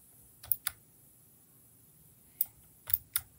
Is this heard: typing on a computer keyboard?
yes